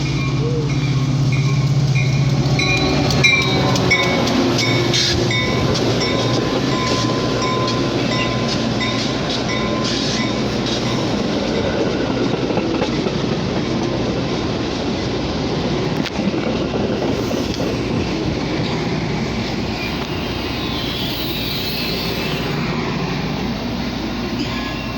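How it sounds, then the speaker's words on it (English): A Union Pacific West line Metra commuter train pulls into Bellwood, Illinois station with a loud continuous rumble, rhythmic wheel clatter, brake hiss and squeal, and a station announcement over the noise. "UP West train number 63 to Elburn is now arriving."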